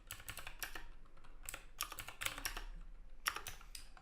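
Someone types an SSH command on a computer keyboard: quiet, quick, irregular key clicks in short bursts with brief pauses between them.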